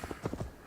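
Horse hooves in Assassin's Creed Valhalla, heard as a short, steady clip-clop of several quick hoof strikes at close range, with no talk.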